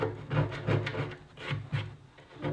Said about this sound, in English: using it kind of like a scraper